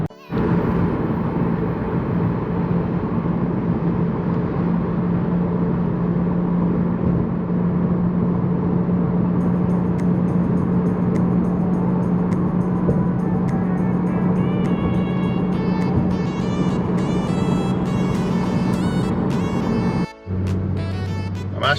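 Lexus IS250 driving on local back roads, a steady interior engine and road drone with tonal hum throughout, ending in a brief dropout and clatter.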